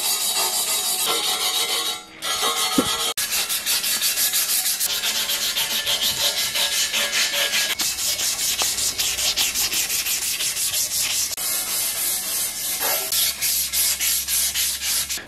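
Green Scotch-Brite pad scrubbing a bare bicycle frame during paint prep, a loud, continuous rapid rasping rub with fast back-and-forth strokes lasting the whole stretch, close and alone.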